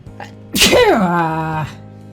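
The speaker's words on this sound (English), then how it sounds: "I'm gonna sneeze." One loud, close sneeze: a sharp burst trailing into a drawn-out vocal tail before fading out.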